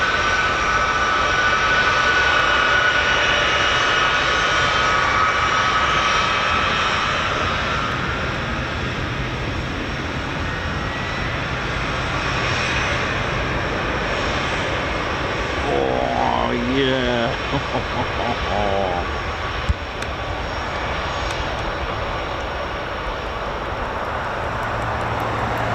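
US Air Force C-17 transport jet engines roar steadily throughout, a broad loud rumble with a brief whining rise mid-way, while people talk and exclaim nearby.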